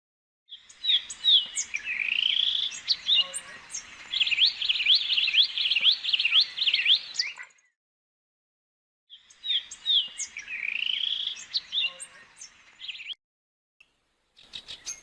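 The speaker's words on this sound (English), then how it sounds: "Euphonia." A euphonia sings two bright bursts of high, quick chirps and trills, each several seconds long and separated by a short silence, clear and close with no voices.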